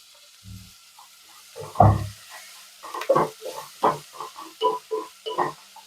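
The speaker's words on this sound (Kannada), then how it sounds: "ಇದು ಇವಾಗ ನೀಟಾಗಿ ಫ್ರೈ ಆಗಬೇಕು." Spices and tomatoes frying in oil in a pan for horse gram curry, with a string of sharp sizzles and stirring scrapes, loud and close, growing busier toward the end.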